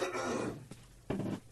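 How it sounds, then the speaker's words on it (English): A single throat-clearing cough, then a second short cough a moment later, fairly quiet and close, with no talking. "Let me cough for a second"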